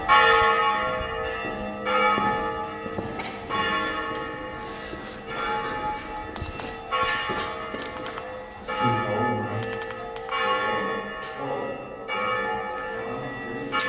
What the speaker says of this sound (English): I'm hoping that's the church bell